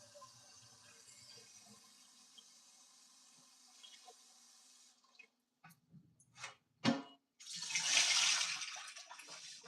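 Water runs from a tap into a pot being filled for boiling plantains while making mangú, a steady close splashing that swells loudly toward the end after some brief knocks and clatter.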